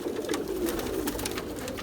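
Pigeons coo softly and continuously at close range, with overlapping low throaty calls and some wing flutter behind.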